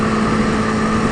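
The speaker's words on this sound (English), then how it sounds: "So the little single cylinder engine is working away." A 2018 BMW G310R single-cylinder motorcycle is ridden at about 62 mph in sixth gear, its engine giving a steady, buzzy drone that continues without a break.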